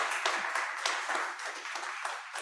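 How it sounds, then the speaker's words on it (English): A small group at a meeting claps together, a quick irregular patter of hand claps that carries on steadily for a couple of seconds. "Judy, shall we clap or something?"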